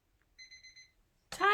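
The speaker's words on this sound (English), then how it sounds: "Timer, Tanya." A kitchen timer alarm beeps four quick times in a quiet room during resin crafting, then a voice starts speaking.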